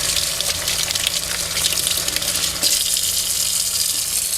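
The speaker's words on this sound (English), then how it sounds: "Turn your water back on," Water running from a sink tap while hands are rinsed: a continuous, fairly loud splashing gush that holds steady throughout, close by, with no one speaking.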